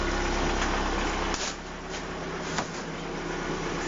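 A VAZ 2170 Priora engine idles at about 900 rpm, not yet fully warm, with a steady low hum and faint mechanical ticking from the hydraulic lifters, heard close up with no talking.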